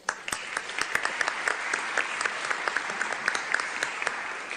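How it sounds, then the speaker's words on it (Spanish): An audience at an international political party forum applauds to welcome a speaker from Mexico's National Electoral Institute, a steady, moderately loud patter of many clapping hands that continues throughout. "Lo recibimos con fuertes aplausos."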